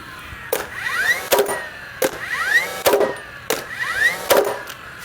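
A DeWalt DCN692B cordless 30° framing nailer fires nails one at a time in single fire mode on drive setting 2, giving five sharp, loud bangs at a steady pace about a second apart, each followed by the whirring reset of the mechanism.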